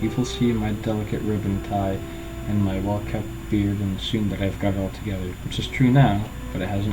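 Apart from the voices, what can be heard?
No everyday noise stands out behind the speech.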